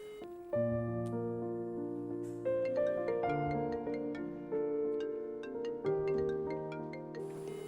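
A phone ringback tone plays while a call is placed, a repeating melodic electronic pattern in steady phrases, moderately loud and uninterrupted by talk.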